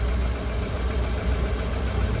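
A boat engine with carburetor trouble idles roughly at close range, a steady low rumble with a knocking vibration and nobody talking.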